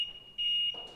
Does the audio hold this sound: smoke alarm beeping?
yes